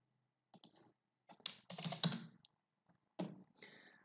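Typing a value on a computer keyboard in the Caesar II piping software: a few quick, close key clicks in short clusters with silent gaps between them.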